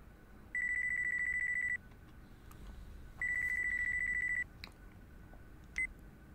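A mobile phone ringtone in the video game Yakuza 5 rings in two long electronic bursts, followed by a brief short chirp, loud and clear over a quiet background with no talk.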